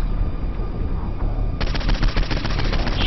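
Rapid automatic gunfire from a firefight against enemies in Saints Row 4, beginning after a rumbling stretch of action noise and then rattling steadily and loudly to the end.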